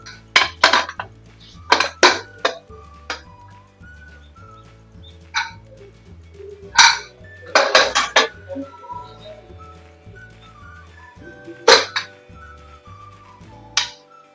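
A pressure cooker holding chicken pulao is opened with several sharp metallic clanks and clinks of the lid and pot, spaced out over steady background music.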